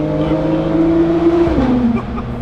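A Porsche 992.2 GT3 with exhaust valves open holds a loud, steady engine tone, then drops pitch as revs fall, close and continuous with no talk.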